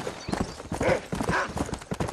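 Hooves clop in a quick, uneven rhythm, a horse in Red Dead Redemption moving fast at moderate distance, with faint background sounds.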